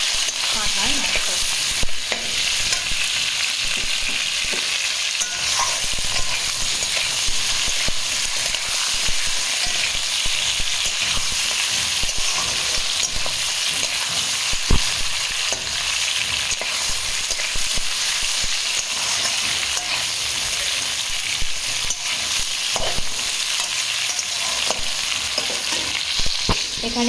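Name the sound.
goat meat frying in a pan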